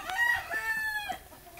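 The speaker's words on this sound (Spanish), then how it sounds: "Este es el otro gallo que te estoy comentando" A fighting rooster, a Roundhead-type gamecock, lets out a single short crow nearby, somewhat faint and alone.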